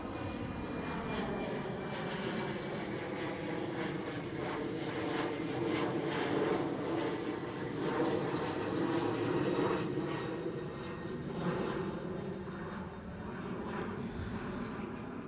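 KLM Cityhopper airliner at Amsterdam Schiphol airport, its engines producing a steady, moderately distant roar that holds evenly throughout with no voices.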